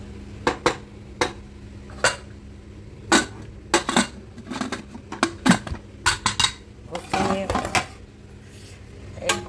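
Cooked rice is served onto plates with a spoon, giving a series of sharp clinks and scrapes of metal against dishes at an uneven pace, close by, with some faint talk in the background.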